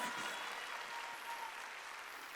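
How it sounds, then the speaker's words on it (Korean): Church congregation applauding during a Sunday worship service, a steady wash of clapping held at an even, moderate level for the whole stretch with no voices over it. "박수 쳐, 박수 쳐"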